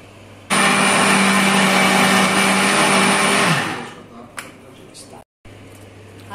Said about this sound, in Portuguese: ela vai bater a cabeça no liquidificador